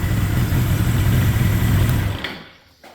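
A stock 1982 Suzuki GS 1100 motorcycle engine idles close by at a rock-steady RPM, a loud, even low rumble that fades out in the final half second.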